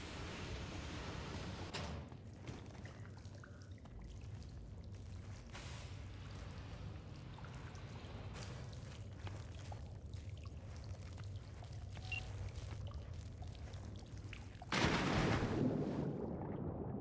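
Water sloshes and splashes as someone swims through flooded tunnels in Cyberpunk 2077, with a steady, fairly faint wash of churning water and a louder surge of splashing near the end.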